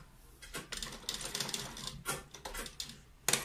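A sewing machine stitches a cold shoulder sleeve, running in short rattling bursts with pauses between them and a sharp click near the end, close and clear with no voices.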